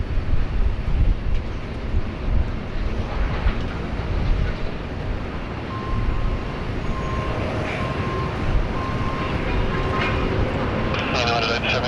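United 870 airliner taking off from runway 16 right at Sydney Airport, a loud continuous low engine roar dominating throughout, while a voice talks over it and tonal radio chatter appears near the end.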